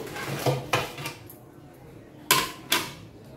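Plates and dishes clatter in a home kitchen as Bengali fish paturi is prepared, with several sharp knocks of crockery being taken out and set down, some close together and a pair near the end.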